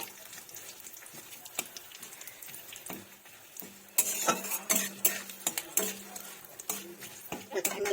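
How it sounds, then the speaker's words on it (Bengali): Dried red chillies and curry leaves sizzle in a pan for a bottle gourd dal. Stirring scrapes and metal clinks begin quietly, then turn louder and busier midway, with a steady fry underneath. "সুন্দরভাবে একটু ক্যারি পাতাটা লঙ্কাটা একটু ভাজা ভাজা করে নেব"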